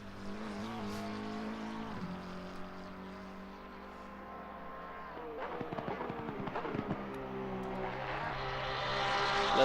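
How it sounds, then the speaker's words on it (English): A Porsche race car engine at Monza, heard during a racing broadcast. A sustained engine tone holds and then shifts pitch as the car works through the gears, moderately distant and gradually growing louder toward the end. "Let's listen into that Porsche sound."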